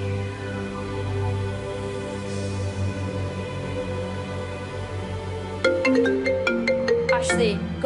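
A mobile phone ringtone plays as a repeating electronic melody in steady tones, carrying on for several seconds, then turns louder and more complex near the end as a second ringing layer joins.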